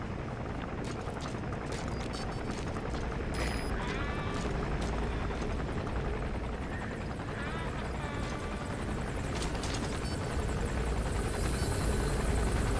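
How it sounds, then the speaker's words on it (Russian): Helicopter in the video game Metal Gear Solid V: The Phantom Pain, a loud, continuous rotor thrum that fills the whole stretch, with faint game effects and bleating sheep scattered over it. "Сраный вертолет."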